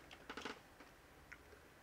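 Faint computer keyboard typing, a short cluster of quick clicks followed by a couple of isolated keystrokes, quiet and close with no talking.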